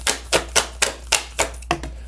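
Tarot cards being shuffled by hand, a run of about eight crisp, evenly spaced slapping riffles close to the microphone with no talking.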